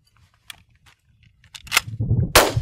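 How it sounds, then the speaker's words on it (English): A shotgun at a clay target shoot: a few quiet clicks and handling noises, then two sharp, loud cracks close by toward the end, followed by excited voices. "I'm going to catch that shell out of the air, load my gun, and dust the clay."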